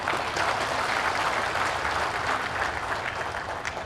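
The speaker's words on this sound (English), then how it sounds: "That calls for a big round of applause." Dense, steady applause from an audience at a Trinamool Congress political speech by Abhishek Banerjee, sustained at even loudness throughout with no voices standing out.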